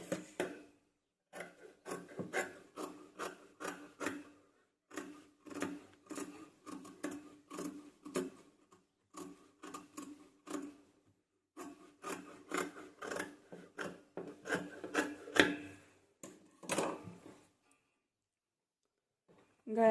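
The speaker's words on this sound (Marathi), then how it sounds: "आता आपल्याला हा गळा कट करून घ्यायचा आहे." Scissors cut through Paithani silk fabric along a blouse's back neckline, giving a steady series of close, soft rasping snips in short runs with brief pauses and no talk.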